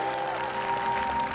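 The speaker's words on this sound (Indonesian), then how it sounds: "Tepuk tangan untuk komentator, ada Yuanita Gracia Indri, ada Kang Emil KW," A studio audience on an Indonesian television show breaks into brief, dense applause, a steady wash of clapping lasting just over a second with a faint tone beneath it.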